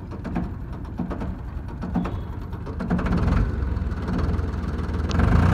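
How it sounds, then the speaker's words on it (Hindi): Ford 3600 tractor diesel engine idling steadily after diesel pump repair, a rough low rumble with mechanical clatter that grows slightly louder toward the end, no voices. "तो दोस्तों हमारा ट्रैक्टर प्रॉपर फिट हो चुका है और आवाज़ भी चेक कर सकते हैं आप"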